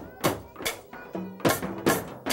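A hand drum is struck four or five times in a loose pattern, some hits on the white head and some on the colored edge. Sharp, close, moderately loud strikes with no talking.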